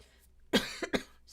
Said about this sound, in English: I'm just coughing it up